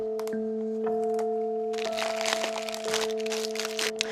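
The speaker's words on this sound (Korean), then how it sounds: "이렇게 비닐을 벗겨내면은" Plastic shrink wrap crinkles and crackles as it is peeled off a Little Nightmares 2 Day One Edition game box, in close, quiet bursts of sharp rustling that grow denser partway through, with a steady electronic hum beneath.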